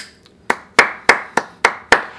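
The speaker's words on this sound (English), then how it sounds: "round of applause to you." A single person claps about six times, sharp and close, in an even, unhurried rhythm, alone with no talk.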